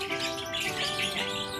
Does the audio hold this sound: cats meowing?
no